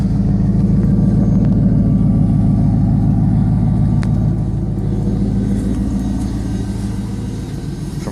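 A 1999 Chevy Camaro Z28 convertible with an LS1 V8, about 91,000 miles and a Spintech muffler, idles after a cold start: a loud, steady low exhaust rumble that holds throughout and eases slightly toward the end, with no talking.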